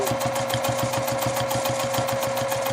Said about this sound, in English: I'm going to start stitching down.